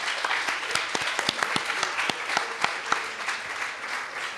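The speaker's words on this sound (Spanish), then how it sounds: "otro aplauso para los niños y las niñas" Audience applause for children after a dramatized reading at a book presentation, close, distinct individual claps over a bed of steady clapping throughout.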